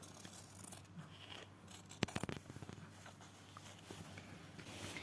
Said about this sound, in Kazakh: Ал енді осы сызықпен аккуратно қиып шығамыз.